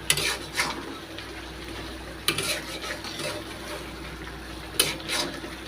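Meat for biryani cooking in a pan late at night, a steady low sizzle running throughout with a few brief scraping stirs of a utensil against the pan.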